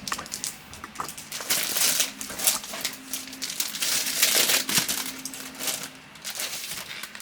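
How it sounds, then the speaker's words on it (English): A sheet of vinyl sticker paper is pulled from its pack, giving close, irregular crinkling and rustling with sharp crackles that come in bursts over several seconds. "So all I'm going to do is I am going to get my paper out"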